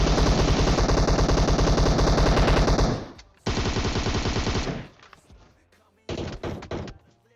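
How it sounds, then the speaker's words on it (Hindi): Automatic gunfire in PUBG Mobile, long rapid bursts of loud shots followed by a shorter burst and then a final brief volley, with no talking over them. "अब दूसरे बंदे को गोलियां जरूर लगती है लेकिन यार वो नॉक नहीं हो पाता बिल्कुल।"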